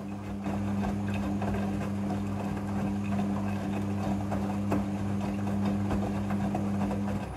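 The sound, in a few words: Midea front loading washing machine running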